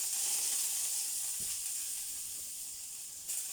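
Eggplant slices sizzling in a very hot frying pan, a bright steady hiss with faint crackles, close and continuous, with no talking.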